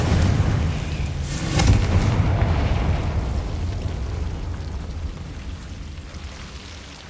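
A fiery Confringo blast spell in the Hogwarts Legacy game erupts as a loud, rumbling boom with a sharp burst near the start, then a long, slowly fading roar.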